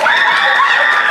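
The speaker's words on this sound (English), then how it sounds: "One more round of applause for all of our homecoming representatives" Crowd cheering and shouting at a high school homecoming football game, a loud, steady roar of many voices filling the whole moment without pause.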